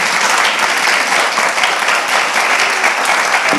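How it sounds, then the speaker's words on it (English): Sustained audience applause fills the room after a panel discussion on art and AI, a dense, steady wash of many hands clapping at close range for the whole stretch. "We can have a round of applause."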